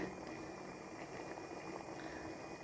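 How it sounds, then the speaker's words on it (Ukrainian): Peach jam boils in a pot with a soft, steady bubbling and simmering that stays quiet and continuous throughout, heard up close with no talk. "варення робимо, щоб воно кипіло більше по всій поверхні"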